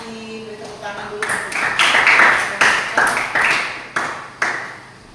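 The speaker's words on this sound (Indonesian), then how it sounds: "Beri tepuk tangan dulu." Schoolchildren in a classroom break into a burst of hand clapping after a prayer, dense and fairly loud for several seconds with a few sharper claps near the end, following a short stretch of a voice speaking.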